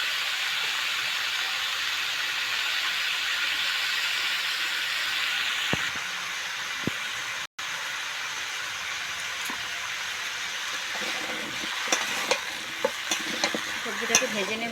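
Vegetables fry lightly in a pan with salt and turmeric, giving a continuous hiss and sizzle that shifts partway through, followed by scattered scraping clicks of a utensil stirring near the end.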